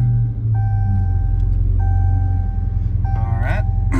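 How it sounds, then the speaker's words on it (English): A 2018 Dodge Charger Scat Pack engine turns over and settles into a deep, rumbling idle close by. Repeated electronic chime tones sound over it from the car. "Now you may start the vehicle."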